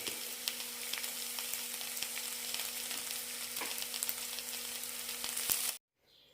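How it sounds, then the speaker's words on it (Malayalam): Egg and coriander leaves frying in roasted masala for crispy mutta pori, a steady close sizzle with light crackles throughout that cuts off abruptly near the end. "മസാല നന്നായി റോസ്റ്റ് ആയിട്ടുണ്ട് ഇതിലേക്ക് മുട്ട വെച്ച് കൊടുക്കാം"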